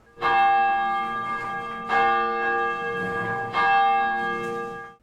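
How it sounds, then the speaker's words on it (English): A hand-pulled church bell rings from a cathedral spire, three rich resonant strikes spaced about two seconds apart, each ringing on and overlapping the last. "Inside one of those spires remains the bell that, hand-pulled, still calls the faithful to church."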